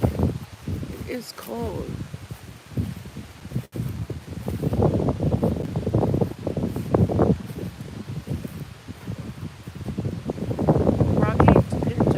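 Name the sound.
wind blowing, rustling leaves in a cemetery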